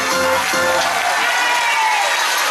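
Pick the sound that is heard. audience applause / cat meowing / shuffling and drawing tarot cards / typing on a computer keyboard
audience applause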